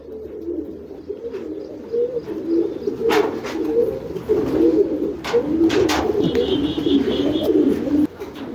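A Canadian male pigeon coos in a low, rolling, repeated burble, close and steady for several seconds, with a few brief higher chirps and clicks scattered over it and no talking.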